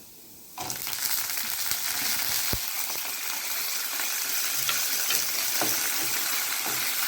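Green chillies drop into hot oil with a sudden loud sizzle that holds steady and close for several seconds, with a few faint clicks of stirring and no talking.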